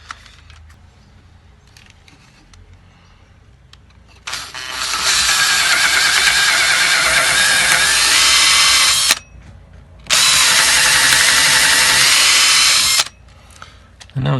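A power drill with a clearance bit whines loudly in two long bursts, separated by a short pause, boring a hole against a quiet background.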